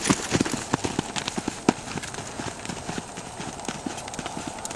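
Mustang gelding under saddle in a training ride, hooves clip-clopping in a brisk steady rhythm at moderate distance over a continuous background hiss, with occasional faint voices.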